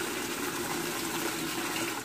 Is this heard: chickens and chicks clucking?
no